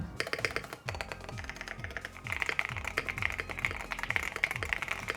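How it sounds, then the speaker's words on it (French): Typing on a Venom60HE magnetic keyboard: rapid close key clicks in an irregular stream, punctuated by a regular, deeper, bubbly thock from the space bar repeating roughly every half second, quiet and alone. "Là quand la barre espace, elle fait un peu un bruit de bulle"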